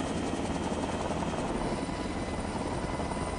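A helicopter over Sequoia National Forest during a raid on an illegal marijuana garden, its rotor chop and engine drone loud and steady throughout with no voices.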